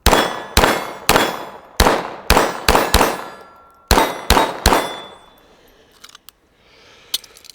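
GSG 1911 pistol firing outdoors in cold weather, about 10 degrees, with the slide slow to return to battery: a rapid string of sharp, loud metallic cracks in uneven rhythm, then a few faint clicks and knocks.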